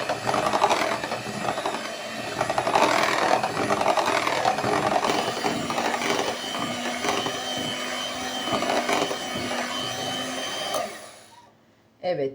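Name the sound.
electric mixer whisking cake batter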